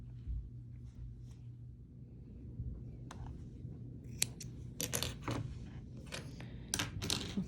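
Scissors snip through yarn during casting off a loom-knit beanie: a few quiet, crisp cuts in the latter half over a faint low background hum, close and soft.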